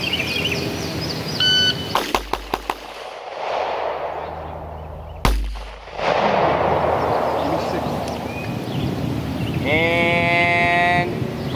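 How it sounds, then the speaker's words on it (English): Six rapid pistol shots fired from low ready on an outdoor range, loud and close as a quick burst of cracks near the start, followed by a lingering echo and a later electronic timer-like beep tone. "You're gonna give me 6 shots from low ready on the beat."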